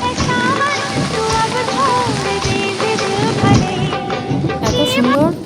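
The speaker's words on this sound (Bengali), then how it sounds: "এত গরমের মধ্যে বৃষ্টি আসলে কি না ভিজে থাকা যায়?" Rain pouring in a village during hot weather, a dense steady patter of drops on surfaces close by, with voices talking over it.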